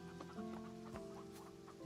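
Chickens clucking in the Farm Together 2 farming video game, a few soft clucks and short calls over a steady, fairly quiet backdrop of in-game music and ambience.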